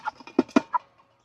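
A live Cornish Cross rooster gives a few short, close clucks in a quick irregular burst while being weighed, then falls quiet.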